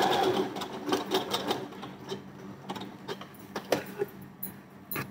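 A sewing machine stitches a blouse, running forward and then in reverse for a double stitch, with a rapid mechanical chatter that pulses and stops several times, close and fairly loud.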